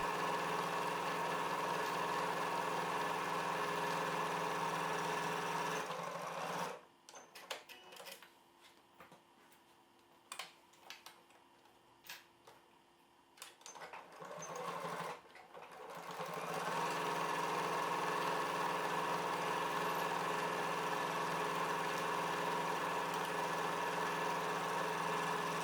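A sewing machine stitches the seam of a zippered tote bag, a steady droning whir that stops for about ten seconds of quieter handling clicks before running continuously again until the end.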